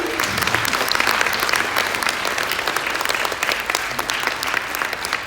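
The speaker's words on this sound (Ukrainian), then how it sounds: "Ваші оплески." Sustained applause from an audience at a book presentation charity auction, dense clapping filling the room at steady volume throughout.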